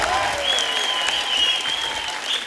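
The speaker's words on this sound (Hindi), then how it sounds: "मैं आप सबकी जोरदार तालियों के बीच इनवाइट करना चाहूंगा" A dense wash of audience applause on a comedy TV show set greets an arriving guest, steady and loud throughout with a faint whistle-like tone running across it.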